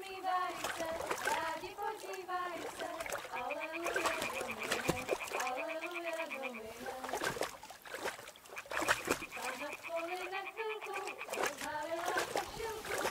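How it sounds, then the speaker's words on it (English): In a video game, a thrown stone splashes into water. Voices talk throughout, and croaking, watery background sounds play at moderate level under the talk. "Throw a stone in the water near her to lure her away."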